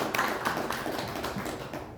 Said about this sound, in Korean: 일단 박수 한번 주세요